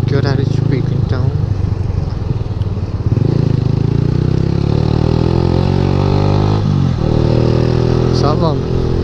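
Motorcycle riding through rush-hour city traffic, a loud continuous engine drone with rising and falling revs close to the microphone, passing cars blending in and someone talking over the noise.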